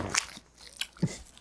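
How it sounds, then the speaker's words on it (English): Close, crisp bites and chewing on a gummy patty: three or four short crunching snaps spread over a second and a half, fairly quiet, with no talk. "I'm chewing now. Everybody hears me chewing."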